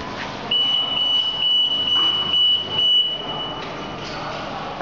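A Rehoo needle detector alarm sounds a high, piercing tone in a run of short bursts, close and clear over faint machine hum.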